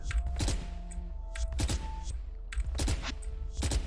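Bursts of gunfire from the tactical shooter Valorant, four short volleys spaced about a second apart, loud and close, each a quick cluster of sharp shots over a steady low background hum.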